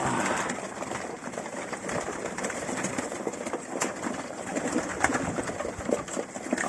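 Pigeons coo close by in a continuous, overlapping chorus of soft throaty calls, with rustling and a faint mechanical hum beneath, and no talking.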